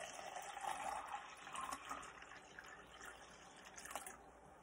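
Water pours steadily into a plastic cup, a continuous splashing fill that sounds close and fairly quiet, without any talk.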